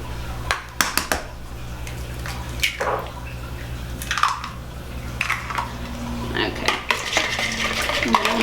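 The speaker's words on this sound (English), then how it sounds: "So it's sugar, vanilla, and oil and eggs that I'm going to whisk together here." Sugar, vanilla, oil and eggs are whisked together in a bowl for a carrot cake roll batter, with quick irregular metal clinks and taps against the bowl, close and fairly loud.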